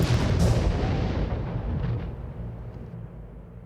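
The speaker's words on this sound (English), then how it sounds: "That was 3 pounds of high explosive" A three-pound high-explosive charge detonates in a full-scale blast pressure test rig, a huge booming roar that peaks immediately and then rumbles and decays slowly over several seconds with no voices.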